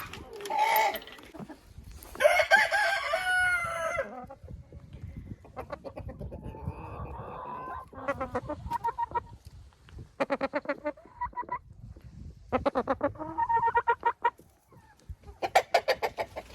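Hens clucking and a rooster crowing inside a backyard henhouse with upper nesting boxes, in repeated bursts of close, fairly loud calls separated by short pauses.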